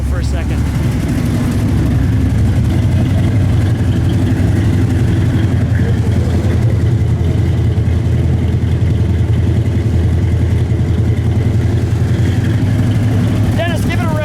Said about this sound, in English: Let me listen to that idle for a second.